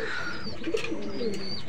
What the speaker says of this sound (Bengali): এ পর্যায়ে যে কবুতরটি আমরা দেখতে পাচ্ছি, এটা একটা গলালাল কবুতর